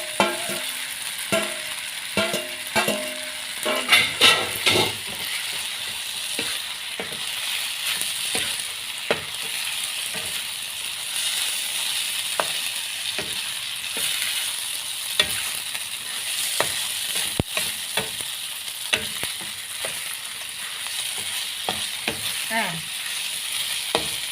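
Noodles and cabbage stir-fried in a home pan, a continuous close sizzle broken by repeated sharp clacks and scrapes of the utensil against the pan, steady throughout.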